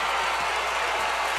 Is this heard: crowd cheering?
yes